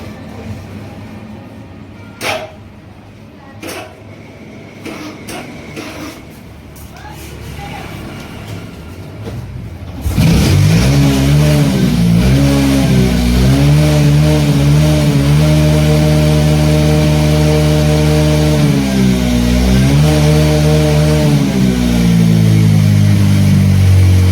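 A Bajaj V15 motorcycle with a smoking engine fault starts up after quiet workshop background, then idles and revs loudly and steadily at close range, the engine note rising and falling.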